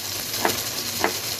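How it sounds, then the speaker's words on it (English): Beef browns in a hot pan in a beef stew, giving a steady loud sizzle with two brief scraping stirs, close and alone with no talking. "our meat is browning nicely there"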